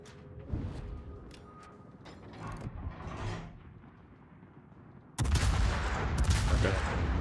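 Warship guns firing at an enemy Lenin battleship in the World of Warships game, with scattered mechanical clanks and muffled shots before a sudden loud, sustained roar of gunfire and rumble that continues to the end.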